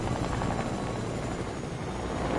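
A helicopter in Fortnite flies close by with a loud, steady rotor roar and engine whine that fills the whole moment without a break.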